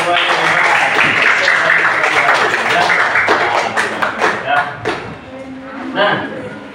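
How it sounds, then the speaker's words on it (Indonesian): Classroom students clapping together during a lesson, a dense burst of applause that fades into scattered claps after a few seconds, with voices mixed in. "Oke, tepuk tangan buat semuanya."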